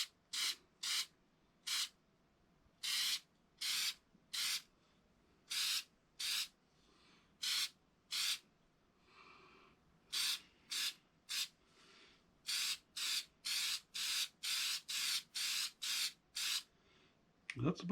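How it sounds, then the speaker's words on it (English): Short bursts of spray-on finish hiss onto a wooden turned magnifying-glass stand, about two dozen quick puffs in an uneven rhythm with brief pauses between them, close and fairly clear over a quiet background. "I use a spray-on"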